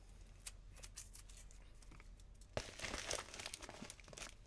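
MetalCrate subscription box being opened, with close crinkling, tearing and rustling of packaging, quiet at first and then a sharper burst of rips and crumples.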